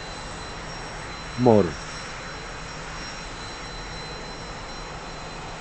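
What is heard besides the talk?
T-45 jet engine spooling up with throttle, DCS video game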